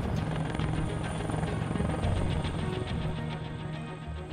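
A helicopter's rotor thumps steadily with a loud, droning engine roar, close and constant for the whole stretch.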